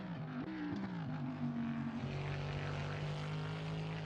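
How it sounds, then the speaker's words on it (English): Steady droning engine note of the Skid Times Sin R1 race car lapping Imola in a racing game, a continuous tonal whine with pitch shifts as it changes revs. "Definitely got a mean engine note, that's for sure."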